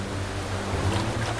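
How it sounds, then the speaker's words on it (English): A waterfall gushes upstream in the Great Bear Rainforest, a loud, steady roar of rushing water filling the whole moment with no voices. "The gushing waterfall further upstream seems insurmountable."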